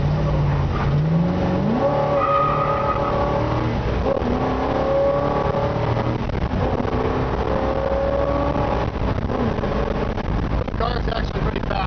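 A 1957 Chevrolet 150 Handyman wagon with manual transmission revs up and accelerates through several gear changes, its pitch climbing, dropping and climbing again, with wind noise and a voice talking over it.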